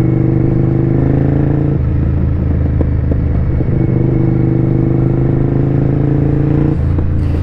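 A motorcycle engine revs hard and steadily close by, its low growl holding for several seconds with a brief drop in pitch and clattery mechanical texture throughout, no talking.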